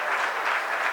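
An audience applauds at a Hindu sermon, a steady wash of many hands clapping together, dense and fairly loud, with no voices over it.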